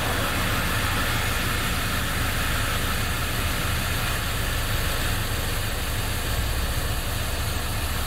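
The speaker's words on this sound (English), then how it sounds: "So first thing, let's start the engine." Car engine with gasoline direct injection running at idle, a steady even hiss-laden drone throughout, moderately loud and unbroken, with no speech.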